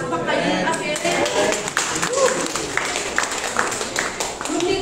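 Parents in an audience clap in a scattered, moderate burst while voices carry on over and among the claps.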